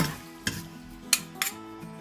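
Stir-fried bamboo shoots with chicken giblets scraped and stirred in a pan, a few distinct clanks of a utensil against metal over a quiet low sizzle, close and without talk.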